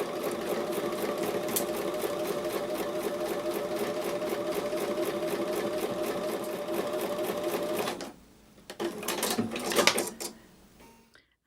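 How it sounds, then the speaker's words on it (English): A sewing machine runs steadily for about eight seconds, joining quilt block pieces with a quarter-inch seam, then stops and gives a few shorter, uneven bursts of whirring and rattling. "I'm going to take these to the sewing machine and sew with a 1/4 inch seam"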